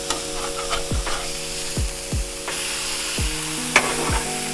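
Smash burgers sizzle steadily on a hot Blackstone griddle right after the flip, with a spatula scraping and tapping in a few sharp strokes over the continuous hiss; there is no talking.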